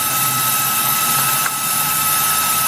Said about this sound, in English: But this little yellow bit is doing a good job.